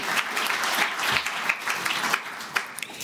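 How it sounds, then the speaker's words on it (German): A panel audience gives the hosts a short round of applause, a steady patter of many hands with a few louder claps near the end. "ja, ich denke, das ist ein Applaus wert"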